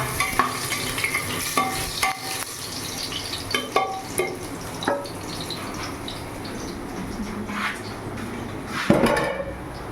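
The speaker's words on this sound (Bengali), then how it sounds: "আলুগুলো হালকা করে ভেজে নিই।" Potato pieces frying lightly in hot oil in a pan, with a steady soft sizzle broken by repeated clinks and scrapes of stirring, close and moderately loud.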